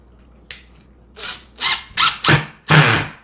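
An impact drill drives a screw vertically into a pre-drilled hole, giving a series of short, loud, buzzing bursts that grow longer and stronger toward the end, with a brief gap between each.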